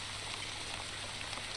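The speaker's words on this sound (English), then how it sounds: "There is a storm above us." Steady rain falling during a storm in the game The Wandering Village, a continuous even hiss with a faint low hum beneath, unbroken and with no voices.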